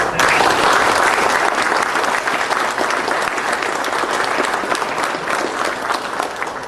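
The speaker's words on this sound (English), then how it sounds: "So I would ask you to give Jack a round of applause" A seminar audience at a military retirement benefit event gives a round of applause: dense, sustained clapping from a room of people, loudest at the start and easing slightly over several seconds.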